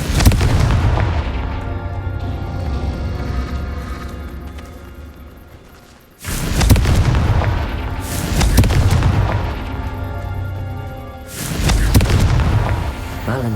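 Confringo blast spell explosions in the Hogwarts Legacy game: two loud, sudden booms, each followed by a heavy rolling rumble, over a dense, continuous game soundscape.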